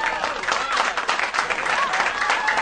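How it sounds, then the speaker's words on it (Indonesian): A crowd claps and cheers at a lively gathering, the dense, steady applause running the whole time with voices calling out over it. "Ayo tepuk tangan yang meriah."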